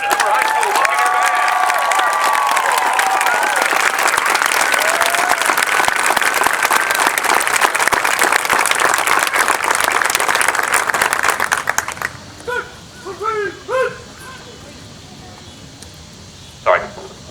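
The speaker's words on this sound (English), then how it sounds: "give one more round of applause, ladies and gentlemen, at Hoover High School Buccaneer Band." A crowd applauds the Hoover High School Buccaneer Band with loud, continuous clapping and cheering for about twelve seconds, then it stops abruptly and a few scattered voices and a dog's barks are left.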